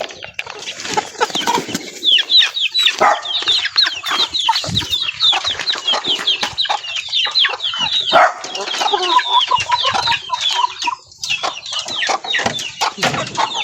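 Chickens on a farm cluck and squawk nonstop, several birds calling over one another in a dense, loud, close chorus with brief flutters and no talk.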